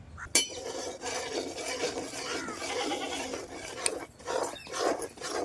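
A spoon stirs ground roasted gram and sugar into ghee for a sweet, giving faint scraping and rubbing strokes against the pan with a few sharp clinks.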